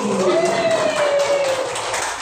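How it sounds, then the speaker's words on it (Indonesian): Brief applause from an audience at an education dissemination session, a short patter of clapping with a sustained tonal sound running through it. "Tepuk tangan lagi"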